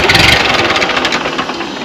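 Ford 8N tractor engine running after a start, a steady loud mid-pitched idle with a slight rhythmic knock throughout, close by and without talk.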